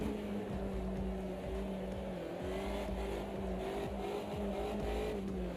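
Race car engine in a racing video game drones steadily and loudly throughout, with repeated pitch dips and surges as the driver left-foot brakes and feathers the throttle, no talking.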